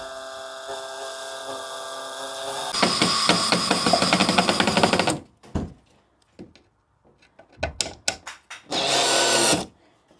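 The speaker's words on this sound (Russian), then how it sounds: "Берем шуруповерт, берем саморез." A cordless screwdriver drives a 40 mm self-tapping screw into drywall around a door opening, giving a loud steady whirring burst of a few seconds, then a short second burst after some clicks and handling noises.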